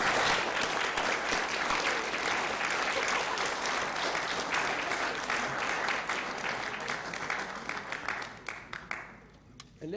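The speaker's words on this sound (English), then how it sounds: "So we'll give him a clap." A conference audience at a Unitarian theology gathering claps in sustained, dense applause that holds steady, then thins into scattered claps and fades out.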